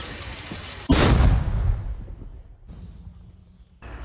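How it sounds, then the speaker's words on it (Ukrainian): A single sharp, heavy boom from a mortar firing, then a long rumbling decay fading into quiet, with a brief click near the end. "Постріл."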